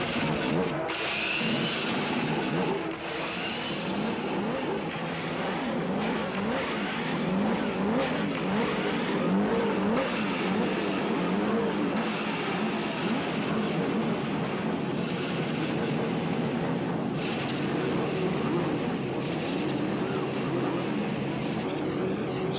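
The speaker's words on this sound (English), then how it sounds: "the IndyCars roar into life" A 28-car field of 1992 CART IndyCars fires up at Laguna Seca raceway, a dense roar of many engines revving and rising in pitch together, loud and sustained throughout.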